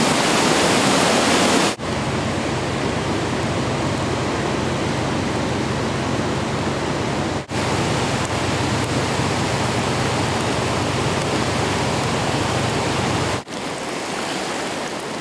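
Rush Creek in flood at Rich Bar in Plumas County's Feather River Canyon during the 1997 New Year's flood: a loud, steady, close roar of rushing water that fills the whole clip, broken only by a few brief cuts.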